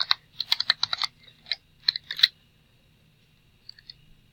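A computer keyboard clatters under quick bursts of close keystrokes while a password is entered, then falls quiet with a few final taps.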